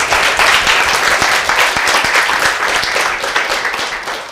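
A crowd at a university hackathon finals applauds the campus registrar, loud dense clapping close by with a few sharper individual claps standing out, staying fairly even before fading slightly at the close.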